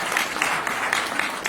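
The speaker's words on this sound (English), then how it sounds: "give yourselves a round of applause" Audience applause at a mayoral forum on the environment in Winnipeg, a brief burst of many hands clapping, with individual claps standing out over a steady wash of sound.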